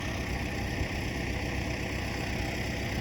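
Steady, close engine drone of a tractor discing a stubble field, a continuous low rumble with no change in rhythm and no voices.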